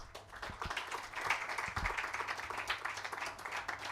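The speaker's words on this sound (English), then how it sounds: "with a huge round of applause" Applause from a conference audience welcoming the chief guest at a university event in Pune, a dense sustained crowd clapping at moderate level for the full stretch.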